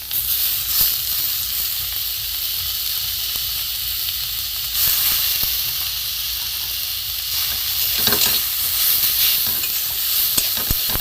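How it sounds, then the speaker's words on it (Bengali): Grated bitter gourd and potato fry in a pan with a steady, close sizzle and hiss, broken by occasional scraping stirs; no one speaks. "এতে আমি গ্রেট করা আলুটাও দিয়ে দেবো জল চিপে।"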